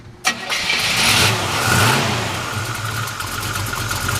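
A 1957 Chevrolet 210 engine cranks and catches with a sharp burst, then settles into a loud, lumpy V8 idle with a steady low rumble through headers.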